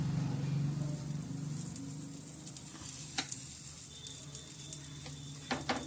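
Mini parathas cook on a hot tawa griddle with a constant soft sizzle, joined by a few light scraping and tapping touches of a utensil toward the end.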